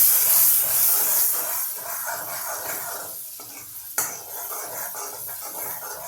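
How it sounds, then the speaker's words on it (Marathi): Masala for a Baghelkhandi Indrahar curry sizzles and hisses in hot oil while being stirred around the pan, a steady close frying noise with scraping strokes and a brief knock midway. "मसाला याच्यामध्ये टाकून हा फिरवून घ्यायचा चांगला"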